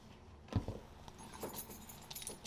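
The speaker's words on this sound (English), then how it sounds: "my car and house keys" Keys jangle briefly, a sharp metallic clink followed by a few lighter rattles as a bunch of car and house keys is handled.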